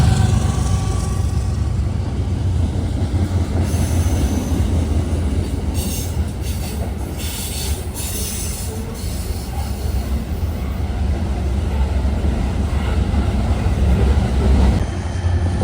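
A Norfolk Southern coal train, C306, loaded with coal out of Evansville, Indiana, rolls loudly and continuously past close by at Coffey's Cliff, with wheels rumbling and clacking and a few brief squeals of metal in between.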